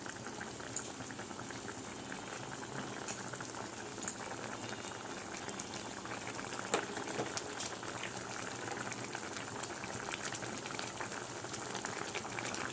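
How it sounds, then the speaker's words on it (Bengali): Stuffed pointed gourd curry, finished with ghee and garam masala, simmers covered in a pan, giving a steady, close bubbling hiss with small pops and crackles throughout and no voices. "তারপর ঢাকা দিয়ে দেবো। 7-8 মিনিট ঢাকা থাকবে, সিমে থাকবে।"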